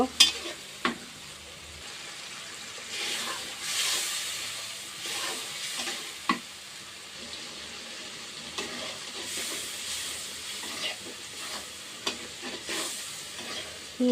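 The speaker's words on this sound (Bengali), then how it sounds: "চিংড়ি দিয়ে দিলাম চিংড়িটা ভালোভাবে কষাই নিব" Shrimp sizzling and frying in a pan while being stirred, steady hiss and crackle with scraping clicks from the stirring, close and continuous.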